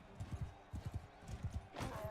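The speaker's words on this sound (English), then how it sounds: "Come on, horse. Let's get him." Hooves of a horse in a video game pound in a quick, rhythmic gallop as the rider charges down a foe with a lance, loud and close, ending in a brief surge of clashing noise.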